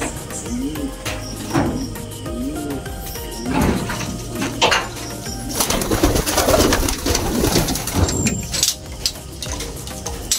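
Young racing pigeons coo in repeated low, throaty rolls close by, with wing flutters, scattered bird calls and faint background noise, and no voices in the clip.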